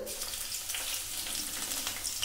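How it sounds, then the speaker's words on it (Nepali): Steady, crackling sizzle of garlic, dried chilies and cumin frying in hot mustard oil, close and continuous with no voices. "अब यसमा यसमा लसुन सुकेको खुर्सानी जिरालाई फुराउँछु"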